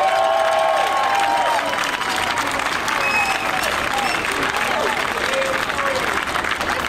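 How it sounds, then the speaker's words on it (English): At a rally against hate, a crowd gives loud, sustained applause with scattered cheers and whoops, and voices call out over the clapping throughout. "give a warm round of applause"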